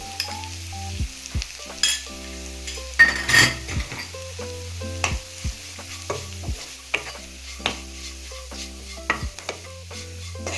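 Coriander powder fries in a pan, a steady sizzle under repeated spoon scrapes and metallic clinks against the pan, close and irregular in rhythm.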